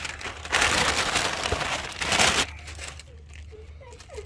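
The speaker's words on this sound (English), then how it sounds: "I can just get these things out of the plastic bag." Thrust washers for a Toyota Land Cruiser 80 Series semi-floating differential are pulled from a plastic bag, giving loud crinkling and rustling bursts up close, followed by quieter small handling sounds.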